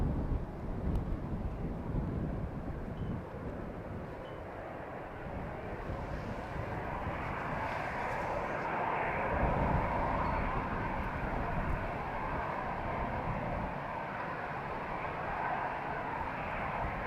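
A Croatia Airlines airliner passes Amsterdam Schiphol's Polderbaan runway 36L, producing a steady, broad jet roar that swells slightly midway and holds throughout, mixed with gusting wind noise on the microphone.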